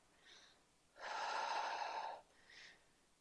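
A deep, steady inhale through the nose during a yoga practice, about a second long and close, bracketed by two softer, shorter breaths.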